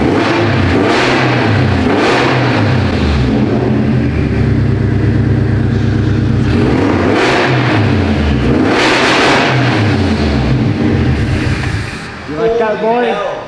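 A Toyota FRS fitted with a new aftermarket exhaust revs hard several times in a row, each rise and fall loud and close, with voices briefly heard near the end.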